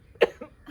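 A single short, sharp cough sounds close by, followed by a softer trailing exhale.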